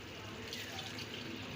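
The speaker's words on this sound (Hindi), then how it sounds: "चावल डालने के लिए हम सबसे पहले इसमें पानी शामिल करेंगे" Water pours into a cooking pot for chana pulao, a soft, steady splashing stream that stays faint and even throughout.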